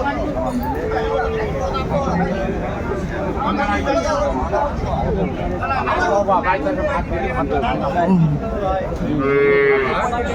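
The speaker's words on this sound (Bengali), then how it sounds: "সুন্দর মানের গাভী বাছুর আমরা দেখছিলাম" Cows and calves lowing at a busy village cattle haat, several moos rising over steady crowd chatter and haggling voices close by.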